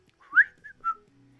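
A person whistles a short, casual phrase of three bright notes, the first the strongest, close and alone against a quiet background.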